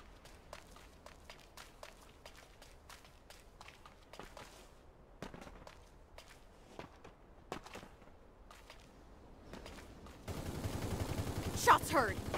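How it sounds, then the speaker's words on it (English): Gunfire in the video game Super Mecha Champions, set in a mall: scattered, sharp shot cracks and quick footstep-like taps, mostly faint and distant, ending in a louder, noisier burst of action. "Shots heard."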